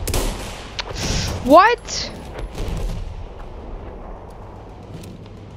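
Gunfire from the video game Battlefield crackles in a few sharp bursts near the start, followed by a brief whistling, rising effect, with a voice speaking a word over the game sounds.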